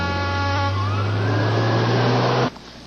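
A fire engine siren wails loudly and steadily up close as the truck heads to an emergency, with a rumbling engine beneath, before it cuts off abruptly near the end.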